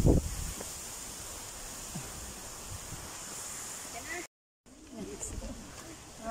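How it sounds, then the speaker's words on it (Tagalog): Strong wind gusting across an open hiking trail at Rhino Rock, Stanley, a steady broadband roar with buffeting against the microphone, brief dropout midway, and people talking faintly in the background. "Lakas ng hangin, no?"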